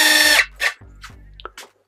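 Stanley Fatmax FMC600D2-Q cordless drill driving a 70 mm screw: a loud whirring burst followed by several shorter, weaker bursts of motor whine, close up and without talk.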